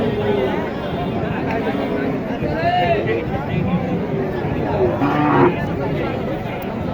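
A crowded cattle market at Mataji Haat in Naogaon, with Sahiwal and Gir heifers for sale, is full of steady crowd babble and close talking, with a few faint, drawn-out cattle moos rising through the din.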